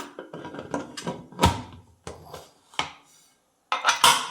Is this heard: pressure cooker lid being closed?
yes